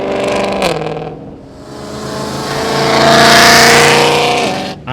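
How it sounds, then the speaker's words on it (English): A loud Ford GT500 muscle car engine roars close by, revving hard and rising in pitch as it accelerates, then drops off with a sharp shift. "that car is one of the loudest cars I've ever heard in my life"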